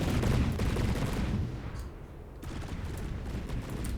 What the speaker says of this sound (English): I kind of like the sound of these cannons. They have a nice sound to them.